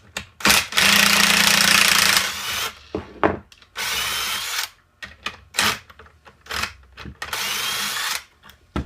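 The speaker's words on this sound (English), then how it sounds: "Now what I'm going to do is switch over my drill to a socket here so that I can take this bolt out." Power drill fitted with a socket backing a bolt out of a pocket hole jig machine, in several loud whirring bursts of varying length separated by short pauses and clicks, close up with no talking.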